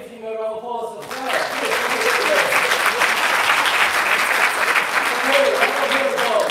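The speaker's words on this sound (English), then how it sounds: "I'll give him a round of applause as well." After a brief spoken phrase, a crowd breaks into sustained applause, dense and even clapping filling the room for several seconds.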